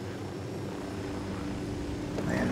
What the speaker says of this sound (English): I am the chopper, everyone gets out, Sam Fisher gets out.